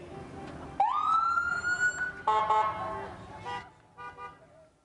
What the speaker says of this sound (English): And here comes that new ambulance.